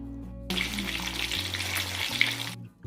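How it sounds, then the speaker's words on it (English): Tilapia fish slides into hot oil and deep-fries with a sudden loud, dense crackling sizzle that starts abruptly and runs steadily for about two seconds before cutting off, close up and with no talking. "Once the oil is hot, slowly add in the fish. We have to fry the fish one by one."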